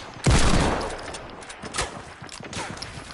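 Gunfire in a video game: a loud sharp burst right at the start, followed by scattered quieter shots over a steady background of game noise.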